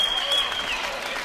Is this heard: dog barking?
no